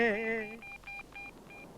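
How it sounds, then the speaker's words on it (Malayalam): Someone speaks briefly, then a telephone number is dialed as four short, evenly spaced electronic keypad beeps, clear and moderately loud. "ഞാനൊന്ന് ഫോൺ ചെയ്യട്ടെ എന്റെ പൊന്നു മോനെ."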